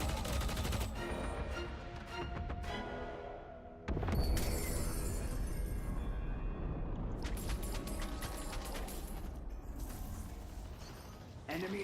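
Gunfire in the video game Deadlock, dense rapid bursts of shots with metallic mechanical clatter and impacts, loud and continuous with a brief break partway through, under game voices and sound effects.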